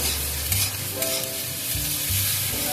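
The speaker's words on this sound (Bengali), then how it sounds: "টমেটোটা দিয়ে আমি নাড়তে থাকলাম।" A medium tomato stirred and frying in a pan, added to a Bengali lentil-fritter (bora) and poppy-seed curry, gives a steady close sizzle broken by a few low scraping stirs, with no talk.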